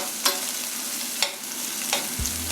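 Ginger and garlic sautéing for a Kerala fish curry, a steady soft sizzle with a few sharp spoon scrapes against the pan and a low clunk near the end, no voices.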